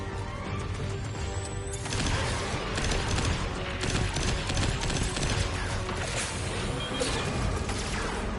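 Rapid weapon fire in the Destiny 2 video game, a steady dense barrage of shots layered with game effects, continuous and loud across the whole stretch with no talk.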